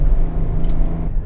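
Diesel engine of a BMW 535d E61 under full throttle, a loud steady low rumble with a droning harmonic note held across the whole moment, close and dominant.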